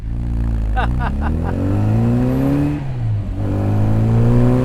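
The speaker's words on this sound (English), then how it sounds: "Holy mackerel, this car goes." A 1965 Austin Mini Cooper S pulls hard from inside the cabin. The loud, close engine note climbs steadily, dips at a gear change, then rises again.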